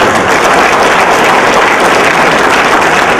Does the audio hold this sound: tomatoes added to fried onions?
no